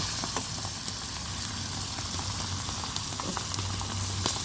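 Dried salted fish (tuyo) frying in a pan gives a steady, close crackling sizzle with scattered sharp pops throughout.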